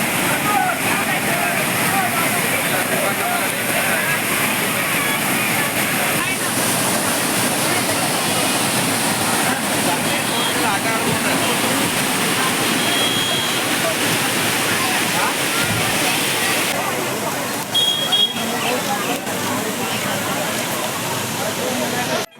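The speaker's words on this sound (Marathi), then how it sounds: "तर हा आहे दुसरा धबधबा" A waterfall at the foot of Lohagad and Visapur forts roars loudly and continuously, a dense rushing wash of water that never lets up, with voices faintly mixed in.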